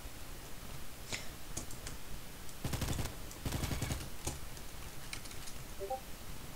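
An overpowered gun firing in a Roblox game, two short rapid bursts of clattering shots in the middle, with sparse clicks before and after over a steady low background.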